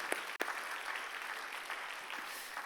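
Applause from a church youth worship congregation for a young man about to marry, with steady, fairly faint clapping from many hands, alone without speech, a sharp knock near the start.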